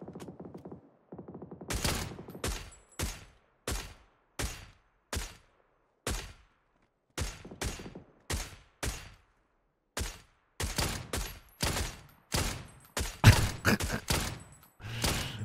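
Gunfire in the console version of PUBG sounds as sharp, loud shots in irregular bursts, single cracks and quick doubles spaced about half a second apart, with rapid clusters near the end and no talking.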